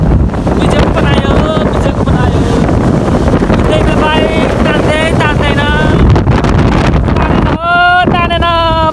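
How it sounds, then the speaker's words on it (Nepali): Strong wind roars and buffets the microphone in a continuous broadband rush throughout a motorbike ride from Sunsari to Kathmandu, with people talking loudly over it the whole time. "यस्तो छ हावा, मरिन्छ होला हावाले।"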